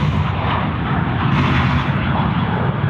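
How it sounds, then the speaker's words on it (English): A Philippine Airlines Airbus A330-200 touching down on the runway at Sydney Airport, with a loud, continuous broadband jet roar that stays steady and close throughout and no audible talk. "Philippines coming in on our runway here"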